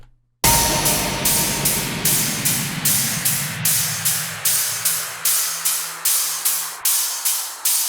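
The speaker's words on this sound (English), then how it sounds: "you can still hear the sweeper go down" A dubstep down-sweep falls slowly beneath a regular run of crisp, evenly spaced hi-hat hits, loud and close after a short silent start.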